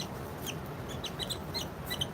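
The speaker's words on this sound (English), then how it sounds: "These here, we've got 11 of these barred rock chicks." Barred Rock pullet chicks cluck and peep in a quiet run of short, high, scattered calls, fairly soft and close, with no talking.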